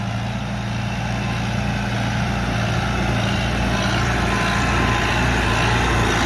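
A Kubota M108S farm tractor pushing crushed rock on road work gives a steady, loud, continuous engine drone with a deep low rumble that holds unchanged throughout, and no voices.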